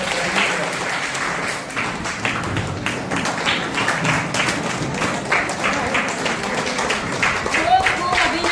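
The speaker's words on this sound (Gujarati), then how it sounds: "તો આપણે તાળીઓથી ઊભા રહીને" Sustained clapping from a standing audience at a women senior citizens' forum oath ceremony, dense and even throughout with a few louder individual claps.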